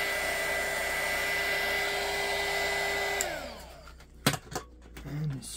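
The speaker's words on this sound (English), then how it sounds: "you don't want to keep the heat gun in one spot" A heat gun blows hot air onto glued Traxxas RC tires with a steady, close whooshing roar for about three seconds. It then shuts off, leaving a few light knocks and handling sounds.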